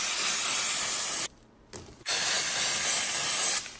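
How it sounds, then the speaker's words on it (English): Spray cleaner hisses in long steady bursts onto a filthy Sur Ron electric motorbike chain, with a short pause and brief softer spray between blasts, close up and without talk. "The chain I was going to put on was filthy, so I gave it a quick clean."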